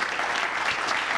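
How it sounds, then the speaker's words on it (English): An audience applauds at a prostate cancer patient conference, a steady burst of many hands clapping, fairly distant and fading into the hall. "You can clap."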